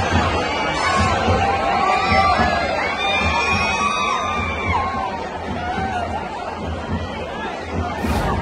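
Dense crowd cheering and whooping at Rahul Gandhi's road show in Bellary, loud and continuous with shouting voices and chatter mixed through, easing slightly toward the end.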